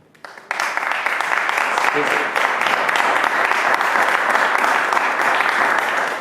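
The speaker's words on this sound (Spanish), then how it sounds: "le damos un aplauso al tenor Luciano Rode," Applause from an opera audience for a tenor, a dense steady clapping that starts abruptly after a brief quiet moment and holds loud and even throughout, with faint voices mixed in.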